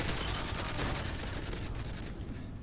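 PKP Pecheneg light machine gun firing in Modern Warfare 3, a loud, sustained rapid-fire burst of close gunshots that rolls on without pause before tailing off, with no talking.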